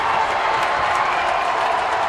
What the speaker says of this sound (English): both teams now hear it from the crowd